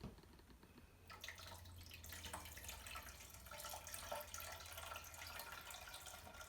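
Filtered water poured into the tank of a Breville espresso machine, a steady trickling stream that starts after a quiet second and continues evenly at close range with no talking.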